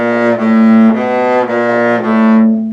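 A bass plays the Max's Magic finger exercise, a steady run of sustained notes that change about every half second, loud and alone with no talk.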